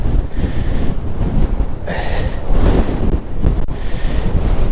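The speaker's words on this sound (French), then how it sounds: "là j'étais bien exposé au vent" Strong gusting wind of 40 to 60 km/h blows across an exposed walking route, a loud, unbroken roar that swells in several heavy surges and batters the microphone.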